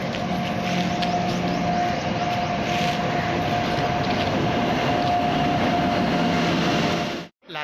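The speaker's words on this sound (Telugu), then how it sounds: "మన ట్రైన్ అయితే వచ్చేస్తుంది ఫ్రెండ్స్" A Koraput–Visakhapatnam passenger train arrives as a continuous loud rumble with a faint steady whine, holding level for several seconds before cutting off abruptly near the end.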